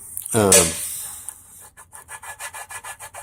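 A handheld paint chip repair tool rubbed back and forth by hand, giving one loud scrape, then a series of soft rhythmic rasping strokes.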